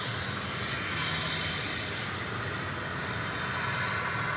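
American Boeing 737-800 jet arriving at Dallas Fort Worth airport, a continuous steady engine roar, fairly distant and even, with no talk.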